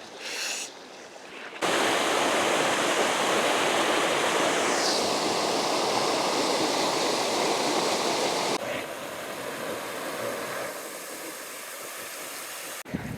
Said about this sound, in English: there's a fabulous waterfall coming up in a moment.